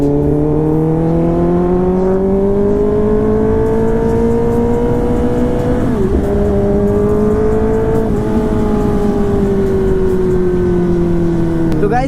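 A motorcycle with a loud aftermarket exhaust drones continuously and loudly close by, its pitch rising and falling slightly as the engine revs.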